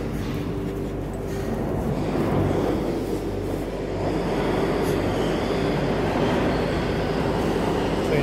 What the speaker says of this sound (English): That's the M train.